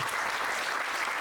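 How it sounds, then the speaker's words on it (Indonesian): Steady crowd applause at an Indonesian student gala meet-and-greet event, a brief continuous patter of clapping with no pause. "Jadi tepuk tangan untuk"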